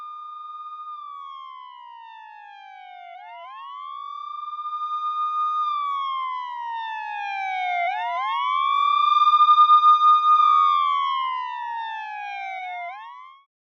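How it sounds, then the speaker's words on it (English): Emergency sirens wail alone in smooth rising and falling sweeps, growing louder toward the middle and fading slightly by the end, a sound effect in a short story. "she hears sirens."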